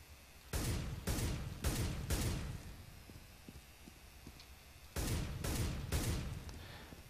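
Rapid bursts of rifle gunfire in CS GO fired while the player moves, two clusters of loud cracking shots with a short gap of quieter footsteps between them.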